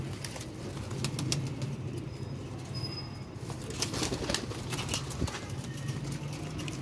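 Teddy baby pigeons coo softly and steadily in a loft, a low, faint murmur with occasional light flutters and scuffs, no voices present.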